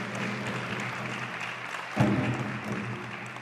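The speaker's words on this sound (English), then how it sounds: "Let's give her a big round of applause." A crowd at a dance school event claps steadily as a ten-year-old champion dancer is called up, with a soft, even patter of applause and a brief louder bump partway through.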